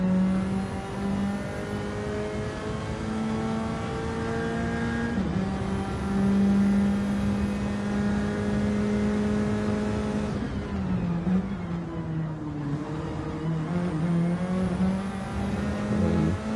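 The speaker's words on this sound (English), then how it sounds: "As you can hear the beautiful sounds of the Nissan Silvia Red Bull Ring Short." Nissan Silvia race car in a sim racing game at the Red Bull Ring short layout, engine droning steadily at high revs with gear-change dips and a sharp lift-off and re-acceleration near the end, loud and continuous with no talk.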